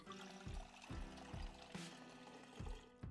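Water pours and trickles into a container in the Project Zomboid survival game, a faint steady stream broken by a few soft low thumps, with no talking.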